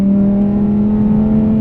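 A 2020 Lamborghini Huracan Evo idling in quiet Strada mode with the exhaust baffles closed gives a steady, subdued low engine hum with no revving, continuous and close.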